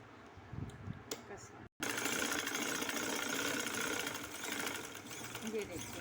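Sewing machine stitching a frill on a skirt, starting after a few handling clicks and a short stop, then running continuously with a steady whirring drone, close and loud, with a voice faintly underneath.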